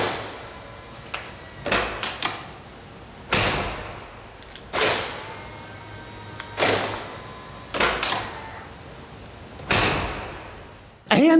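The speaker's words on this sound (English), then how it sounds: "the door handles with the little push button to open them, and how about the way they sound when they open and close?" Push-button doors on a 2025 Mercedes-AMG G63 G-Wagon opening and closing, a series of sharp latch clicks and heavy slams, about a dozen close, loud hits with short decays between them.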